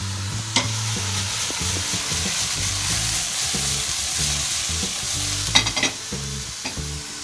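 Choy sum stir-frying in a pan with a sweet, sticky sauce, a steady close sizzle broken by repeated scraping and stirring clatters of the utensil against the pan, with no one talking.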